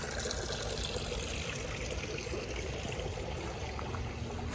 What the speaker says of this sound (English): And our lovely little water feature.